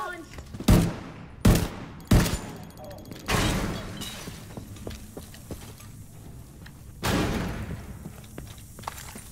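Game gunfire and an explosive grenade-launcher blast in The Division 2 shooter: several sharp, loud bursts in the first few seconds, then a lull with scattered clicks and ambience, and one more heavy blast near the end, with some background voice.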